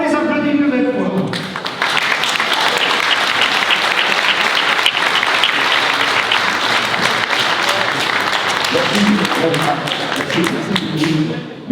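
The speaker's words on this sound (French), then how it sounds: "On les applaudit une nouvelle fois." Loud, dense audience applause at a firm's 20th anniversary celebration, sustained for around ten seconds after a voice speaks briefly at the start, with a few voices audible again as it fades.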